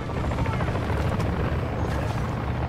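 Helicopter rotor thumping steadily and loud in a Call of Duty Modern Warfare III match, a continuous low chop filling the whole stretch with a faint voice underneath.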